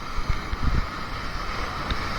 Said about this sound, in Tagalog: Paano ka maliligo na? Lakas ng alon.